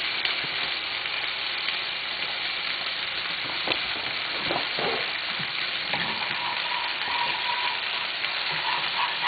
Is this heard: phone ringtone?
no